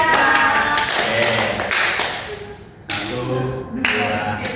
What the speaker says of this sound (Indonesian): Kita akan bernyanyi sambil tepuk tangan ya teman-teman